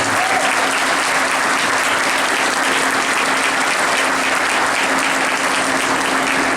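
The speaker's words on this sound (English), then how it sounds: "So if y'all give them a round of applause, I appreciate it." Crowd at a court dedication ceremony breaking into sustained, loud applause, an even wash of many hands clapping without letup and no speech over it.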